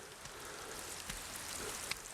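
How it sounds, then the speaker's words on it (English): Raindrops pattering onto a stone stairwell on a Vermont mountain hiking trail, a faint, steady wash of patter with a few slightly sharper drips standing out, and no voices. "This looks pretty cool with the raindrops coming down this stairwell"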